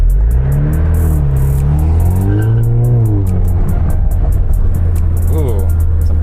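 Tuned Stage 2 Alfa Romeo Giulia 2.0T accelerating hard from a standstill, its loud engine revving and rising in pitch, with a crackle of exhaust pops and tyres breaking loose. A voice talks over the engine throughout.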